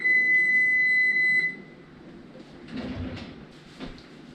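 Oven timer beeping steadily in a home kitchen during cookie baking, then stopping, followed by soft rattles and clunks as the oven is opened and baked cookies are pulled out.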